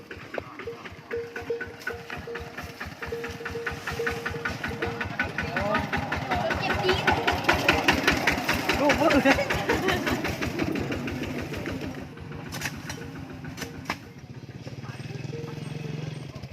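A motorcycle engine runs with a steady, rapid thumping beat that grows louder and rougher as it revs up, then eases off. Someone talks over it throughout.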